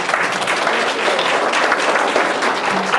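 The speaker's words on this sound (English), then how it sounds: "Give yourselves a round of applause" A lecture audience gives a dense, even round of applause, close and steady for the whole stretch, with no talking over it.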